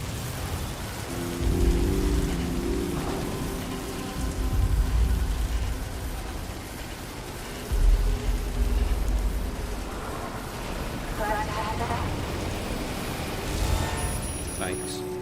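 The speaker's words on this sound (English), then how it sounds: "Sam's pissed off with the rain." Steady rain falls across a snowy outdoor scene in the video game Death Stranding 2, a continuous hiss under game effects and occasional low rumbles, with someone talking over it at times.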